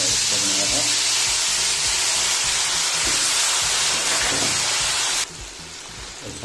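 A tomato masala hits a hot pan with a loud, steady sizzling hiss, close by, that drops off sharply near the end.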